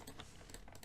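Rapid typing on a computer keyboard during a tabletop game session, with quick, uneven clusters of light clicks and taps running steadily through the brief moment at moderate level.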